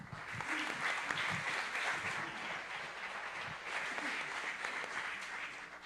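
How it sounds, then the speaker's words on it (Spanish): Audience applause at a colloquium round-table session, a steady wash of many hands clapping that holds at an even level for about six seconds, with no talk over it. "Recibamos también con un aplauso."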